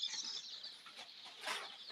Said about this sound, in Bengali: এখন মুরগিগুলোকে খাবার দিয়ে দিব